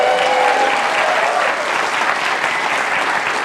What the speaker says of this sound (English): huge round of applause for Emily.